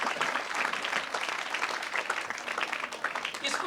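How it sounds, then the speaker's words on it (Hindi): Steady applause from a large crowd, dense and continuous clapping throughout, fairly distant and even in volume. "एक बार फिर जोरदार हरभजन जी के लिए ताली हो जाएगी।"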